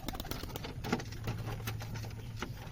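Pigeons released in a field, with soft low cooing over a busy background of rustling and patter, fairly close.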